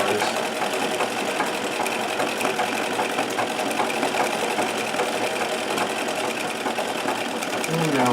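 A Singer 237 sewing machine runs fast and steady in free motion embroidery, a dense continuous mechanical whir with rapid needle clatter throughout, close and loud, with no pauses.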